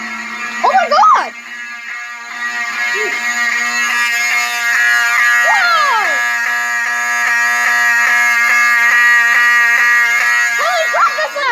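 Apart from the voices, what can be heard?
fire alarm system test at a fire station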